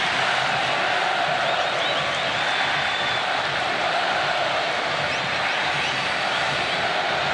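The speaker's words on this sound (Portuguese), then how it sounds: "Fim de jogo no Maracanã, o Vasco da Gama perde para a Portuguesa por 1-0, mas o som da torcida é esse" Vasco da Gama supporters chant at the Maracanã after a Série B match in which Vasco lost 1-0 to Portuguesa. The roar of the crowd is steady and massed, and it fills the stadium without pause.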